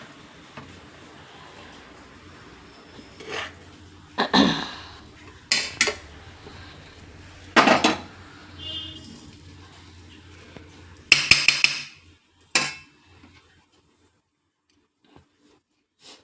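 A spoon mixing rice with gojju in a metal pot makes sporadic clinks and scrapes against the pot, scattered over a quiet background with pauses between strokes.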